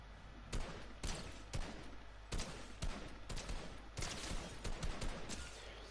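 Gunfire from the video game Fortnite, a series of sharp bursts and single shots in an uneven rapid rhythm, fairly loud against a steady background of game sound.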